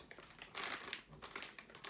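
Close plastic bag crinkling and rustling in irregular bursts, loudest near the middle, during the unboxing of an MSI Armor AMD Radeon RX 570 graphics card.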